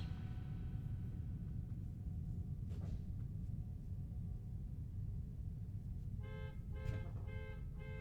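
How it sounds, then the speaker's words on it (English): A car alarm sounds faintly outside, a repeating electronic chirping pattern pulsing in short bursts over a low, steady rumble of background noise. "Someone's car alarm's going off."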